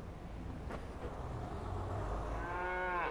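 Cattle lowing at Banbury livestock auction market, a beef cattle sale in progress, with a drawn-out moo rising near the end over a steady indoor murmur of market noise.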